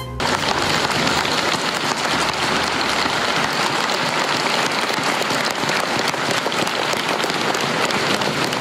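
An audience applauds loudly and continuously, a dense wash of clapping that holds steady from start to finish.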